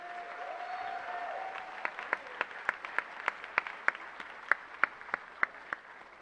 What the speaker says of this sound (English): let's just get one more round of applause for Mrs. Schmidt and the wonderful Cherokee Chamber Strings